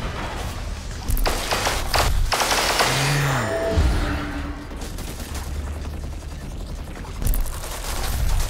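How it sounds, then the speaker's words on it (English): Gunfire aimed at the player in the shooter Crysis 2: rapid bursts and bangs of automatic fire come in loud volleys with thuds and mechanical clatter between them. "Ah, stop shooting me."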